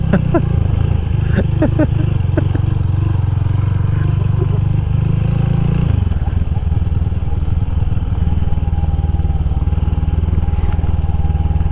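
Motorcycle converted for trail use riding a light forest trail toward a campsite in Tanay, Rizal: a steady, loud engine drone close to the microphone, with clattering and rough changes in engine note partway through.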